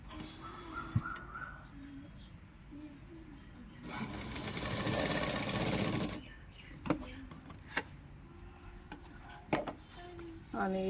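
A sewing machine stitches along the shoulder seam of a blouse with a 12-inch neckline, one continuous loud whirring burst of about two seconds amid quieter handling clicks, while someone talks between passes.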